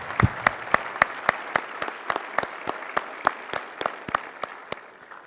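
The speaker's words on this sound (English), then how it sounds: "A round of applause for everyone today" Sparse, evenly spaced claps at an Army oath of enlistment ceremony at Space Center Houston, a modest audience clapping in a slow rhythm with sharp individual hand strikes, moderately close and not loud.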